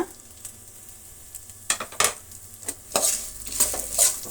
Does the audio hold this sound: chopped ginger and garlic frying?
yes